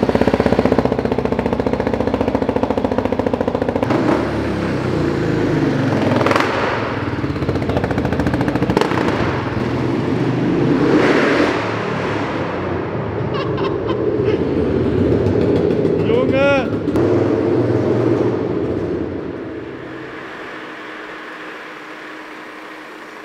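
A Husqvarna 701 Supermoto single-cylinder motorcycle with an FMF exhaust revs hard and close, a loud rough staccato bark repeatedly rising and falling before easing to a quieter idle at the end.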